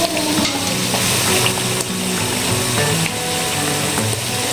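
Whole dal and ginger frying in a pan, a steady bright sizzle with soft stirring scrapes and clinks running throughout, close and even, with no talk.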